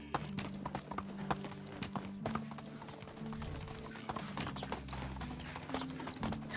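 Horse hooves clip-clop steadily while riding in the Medieval Dynasty video game, a continuous rhythmic patter under game ambience with a faint neigh.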